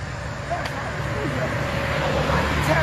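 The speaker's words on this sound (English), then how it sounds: "So the helicopter came by" A helicopter passes overhead in a city neighborhood, heard as a steady broadband rotor and engine drone that builds slightly in loudness across the clip, with traffic-like background noise.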